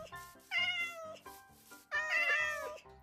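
A cat in the video game Minecraft gives two clear, close meows, each rising then falling, with a short pause between them.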